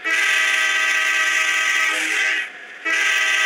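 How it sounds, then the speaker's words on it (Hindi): A train horn sounds in the Indian Bike Driving 3D game at a train station, one loud, sustained blast that cuts out briefly and then resumes, with no talking. "हॉर्न मार लो, कोई होगा आगे में तो भाग जाए।"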